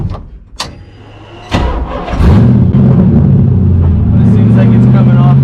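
A Mazda RX7 fitted with a 5.3 LS V8 cranks briefly, then fires and settles into a loud, steady, rumbling idle up close, with some faint talk at the start.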